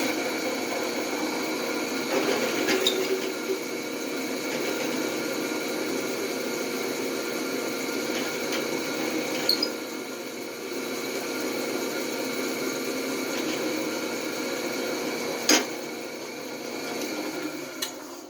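A steady drill motor hums continuously at close range, with faint scraping and a few sharp ticks as a 9/16 twist bit cuts through wood, drilling out a sconce socket.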